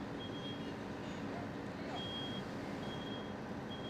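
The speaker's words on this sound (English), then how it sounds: "if we hear the smoke alarm go off" A smoke alarm gives faint, high, evenly spaced beeps during a room fire demonstration with curtains, sheets and a chair burning, nearly lost under a loud steady rushing roar.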